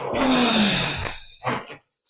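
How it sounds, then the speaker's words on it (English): A person exhales forcefully during a martial arts body-movement exercise, a long breathy sigh-like outbreath followed by a shorter second breath, close and clear with no talking. "Breathing out."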